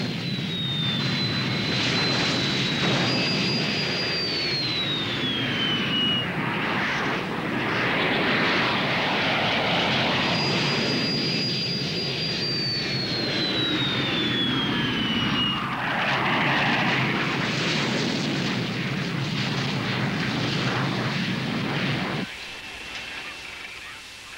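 Fighter jets roar continuously through aerial combat, a loud sustained engine drone with rising and falling whines overhead, cutting off near the end.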